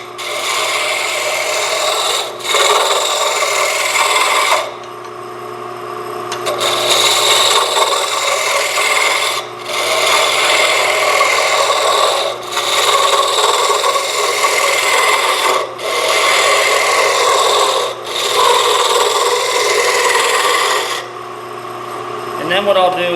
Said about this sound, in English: So I'll run this down until I get to the size that I think I want it to be.